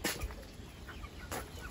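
Backyard chickens and a pair of young roosters, black Indian bantams among them, cluck in short bursts over steady outdoor noise, with a louder flurry near the start and another partway through.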